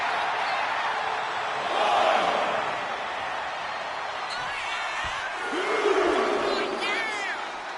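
A wrestling arena crowd in WWE 2K25 gives a sustained roar that swells twice, with slams and commentary voices over the top.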